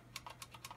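Keys on a legendary IBM mechanical keyboard click in a quick run of about six sharp, crisp presses, close and fairly quiet over a low steady hum, with no talking.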